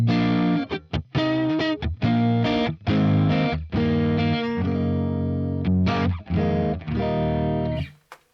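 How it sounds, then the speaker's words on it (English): Distorted electric guitar chords through an AC20 amp model with a Plex reverb effect on a Fractal unit, strummed in bursts with long washy reverb tails, loud and close, ending in a fading decay. "the PLEX is a really, really, really good way to do alternative reverb sounds."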